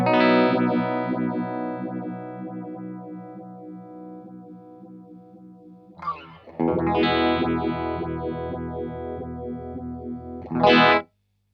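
A distorted electric guitar sustains chords through an Effectrode Phaseomatic Deluxe phaser pedal with uneven, swooshing modulation; a second strummed chord rings out after a brief scrape, no voices.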